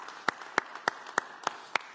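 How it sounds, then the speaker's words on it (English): Sparse, isolated claps ring out at a slow, even pace in a church congregational meeting, six sharp strikes spaced about a third of a second apart over a quiet room. "So for Barb and Kevin, Bill and Lynn, let's give them a big round of applause."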